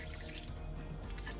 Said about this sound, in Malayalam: നമ്മൾ 1 കപ്പ് വെള്ളം ഒഴിക്കുന്നുണ്ട്